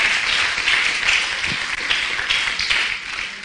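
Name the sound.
audience applause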